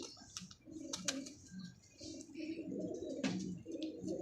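Pet pigeons of the dabb breed coo softly in a loft, low throaty calls repeating under scattered chirps and small rustles, with no talking.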